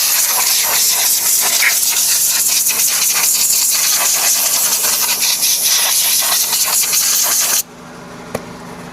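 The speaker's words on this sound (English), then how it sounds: "I'm going to go straight to cleaning the wheel off, and then I'm going to wet scuff the whole wheel" A damaged Nissan Sentra wheel is wet scuffed by hand with a steady, loud, hissing rub. The scrubbing is continuous and close, then stops abruptly near the end.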